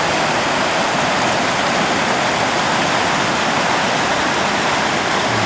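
Trout Creek in a Montana canyon pours in a loud, constant roar of broadband noise, steady throughout with no voices.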